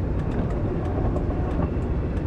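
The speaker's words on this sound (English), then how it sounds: "it's a train" A train rumbles past with rhythmic clickety-clack of wheels over rail joints, a steady low roar throughout this short stretch, fairly close and without voices.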